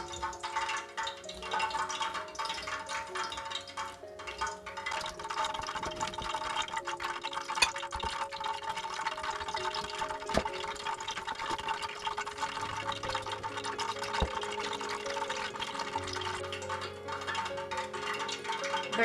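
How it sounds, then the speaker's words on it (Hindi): Water being added to gram flour and the batter stirred for macaroni pakoras in a home kitchen, with steady watery splashing and mixing sounds running continuously at moderate level, no talk. "बेसन में थोड़ा सा पानी डालूंगी और अच्छी तरह इसको घोल लेंगे, मिक्स करेंगे।"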